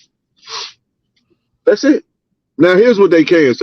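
A single sneeze rings out, followed after a short pause by people talking.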